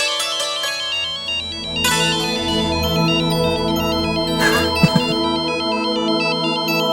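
A melodic phone ringtone plays a repeating electronic tune continuously, with a brief knock-like sound near the end.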